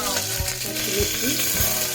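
Green chillies crackle and sizzle as they fry in hot oil with mustard seeds, ginger and garlic in a pressure cooker, a steady close frying hiss with small pops, no talking.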